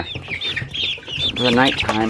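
Young chickens kept under a heat lamp in a brooder covered with chicken wire cluck and peep steadily at close range, with a brief voice speaking over the chatter.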